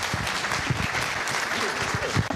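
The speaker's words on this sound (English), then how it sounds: "Please, a round of applause." An audience at an evening film festival awards event applauds, a dense, steady wash of many hands clapping together at moderate volume throughout.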